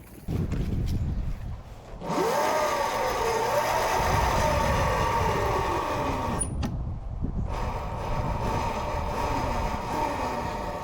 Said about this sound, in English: It's so weird that it's electric. I know. Like the big fat rear tire just spinning.